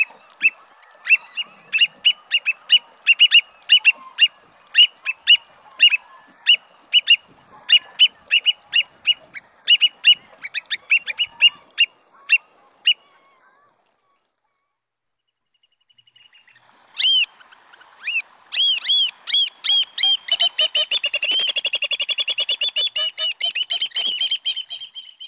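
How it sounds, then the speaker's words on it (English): Black oystercatchers on a coastal shore give a run of sharp, piercing whistled calls, then a pause, then an excited rapid trilling chorus of overlapping piping calls, loud and near. "Okay, oystercatchers. One of my favorite sounds on this coast."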